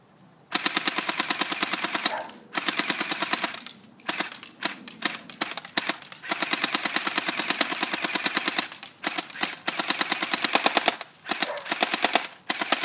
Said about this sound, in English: today we're going to be shooting the M16